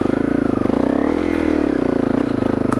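A Honda CRF250L motorcycle on a woodland trail ride, its single-cylinder engine thumping in a rapid, close pulse as the revs dip and rise, loud and steady throughout.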